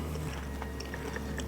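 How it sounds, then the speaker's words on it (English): Close, crisp crunches of biting into a fried smoked chicken flauta, a few sharp brittle cracks over chewing, with no talk. "y'all hear that crunch?"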